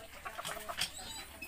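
Several short clucks from a hen or other chicken, close by and moderately loud, with some background rustle and no talking.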